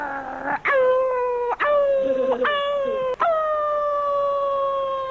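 A voice imitates a wolf, giving a string of rising and falling howls broken by short gaps, loud and close with no other sound.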